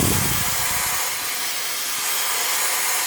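An Oreck steam mop glides back and forth over tile grout, giving a steady broadband steam hiss with a soft low scrubbing at the start, close and continuous with no talk.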